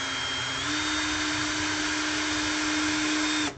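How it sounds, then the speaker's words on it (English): A power drill bores a guide hole and drives a screw while a DIY soap cutter is being built, a steady whining motor hum that rises slightly in pitch after a moment, runs continuously, then cuts off abruptly at the end. "we're just gonna drill a hole here and we're gonna put the screw in here"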